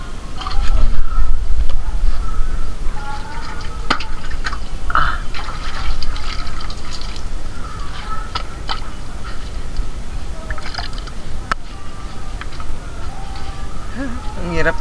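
Water drawn from a well near the sea, with splashing, pouring and dripping sounds coming in irregular bursts over a steady outdoor background, while people talk throughout.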